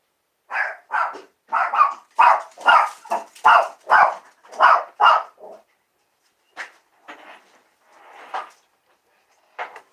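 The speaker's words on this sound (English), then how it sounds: "I heard boom, and then I hear the dog barking." A dog barks repeatedly at close range, a quick run of about ten loud barks followed by a few sparser, fainter barks after a pause, with no talking.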